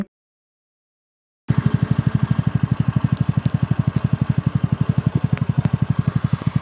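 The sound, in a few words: scooter engine idling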